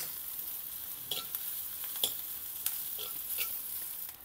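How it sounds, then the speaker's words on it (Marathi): Curry leaves and green chillies sizzling in tempering oil for upma, a soft, steady hiss broken by several sharp spatters and pops, with a spoon stirring close by. "मी आत्ता टाकते कढीपत्ता, मिरची आणि चांगलं परतून घ्यायचं"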